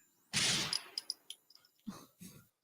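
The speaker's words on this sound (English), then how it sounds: "Just a gunshot." A gunshot sound effect played during a sports talk show: one loud burst followed by a short run of sharp metallic clicks and two duller thuds, alone without talk.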